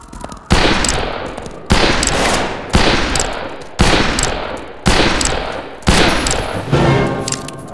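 Gunfire in the Western shooter Fistful of Frags: six loud, close shots fired at a steady, evenly spaced pace, each with a booming tail that rings out before the next.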